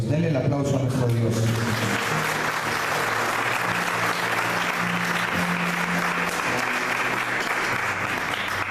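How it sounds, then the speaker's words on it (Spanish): Congregation applause fills a church service, a dense steady wash of clapping that rises after a short voiced phrase at the start, with low organ or keyboard tones and faint voices underneath throughout. "Denle el aplauso a nuestro Dios."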